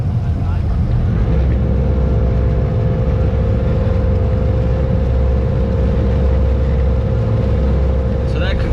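A 30-foot Sea Hunt Gamefish boat with Yamaha outboards runs at sea, its steady engine drone carrying a sustained hum and a broad wash of water and wind, loud and continuous throughout.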